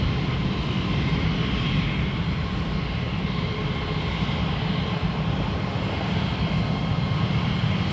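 WestJet airliner taking off at Toronto Pearson, its jet engines delivering a loud, continuous broadband roar that stays strong and steady from start to finish with no voices over it.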